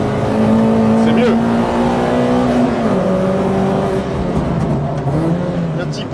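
A Peugeot 206 RC engine revs loudly and steadily from inside the car, its pitch rising and falling through gear changes, with a few small exhaust pops.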